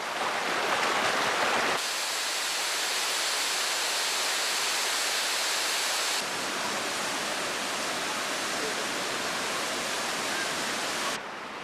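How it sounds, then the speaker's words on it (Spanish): A hot spring waterfall in Jordan, with water at 60 degrees, pours steadily in a loud, broad rushing hiss that shifts slightly in tone but never stops, with no voices. "A 60 grados caen de las cascadas"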